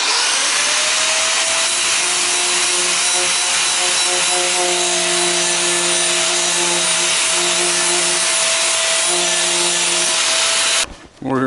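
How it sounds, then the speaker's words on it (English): A flap disc on a grinder sharpens the edge of a restored cooper's adze, a loud steady whine with a harsh abrasive hiss, running continuously for about eleven seconds before cutting off abruptly. "I'm going to take my flap disc and see if we can put a little bit of an edge on there."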